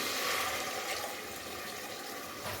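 Tamarind masala water is poured into a pan while making vatha kuzhambu, giving a continuous, close, splashing liquid rush that eases slightly toward the end, with no talking.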